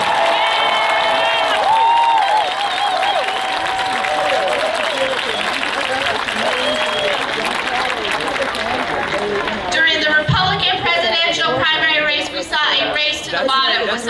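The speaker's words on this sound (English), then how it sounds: "So please applaud President Obama for standing up for our women" A dense crowd at a women's rights rally and march in Denver claps, cheers and chatters steadily throughout, loud and continuous, with a brief surge of applause toward the end.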